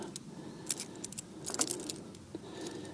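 A bunch of old Mercury car keys jingles and clinks in several light bursts, close by, with a low engine hum underneath.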